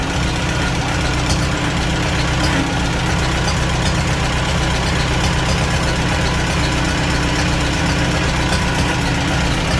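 A Farmall Super A tractor engine runs steadily at idle the whole time, a close, continuous low mechanical chug with a faint knocking texture and no talk.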